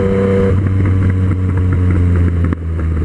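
Yamaha MT-09 and Suzuki GSX-S750 motorcycles racing side by side, their engines droning loudly and steadily at high revs with a strong low hum, close to the microphone.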